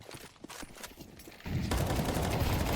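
Video game gunfire during an esports match between Turkey and Croatia, with rapid overlapping shots in a continuous dense burst that grows louder and fuller partway through.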